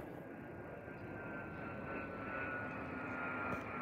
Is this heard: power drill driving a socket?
no